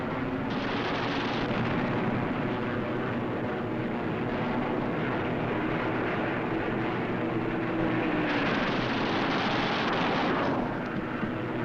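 Armor-piercing incendiary .50 caliber rounds strike targets during a 1945 air fight, heard as a continuous dense roar of gunfire and impacts under aircraft engine drone, loud and unbroken throughout.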